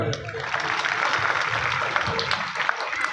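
Sustained clapping from a crowd at a gathering at the Aurangabad Buddha caves: a continuous, fairly loud wash of many hands with no clear breaks, with some voices mixed in.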